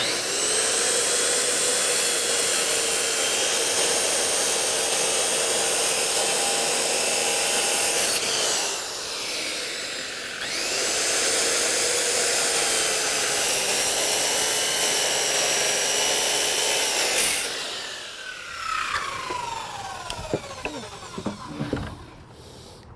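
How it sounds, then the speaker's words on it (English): A circular saw with a carbide-tipped blade cutting hardwood decking for a deck built on concrete: a loud, steady high whine that dips midway, then spins down near the end with some clatter, no talking. "give it a quick cut with our skill saw. Make sure you're using a carbide tip blade or you will not be able to cut hardwood."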